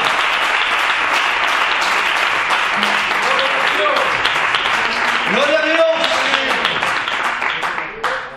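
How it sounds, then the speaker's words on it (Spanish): A church congregation applauds loudly and steadily at a sermon, dense clapping filling the whole stretch while a preacher's voice shouts praise over it. "Dale un aplauso al Señor."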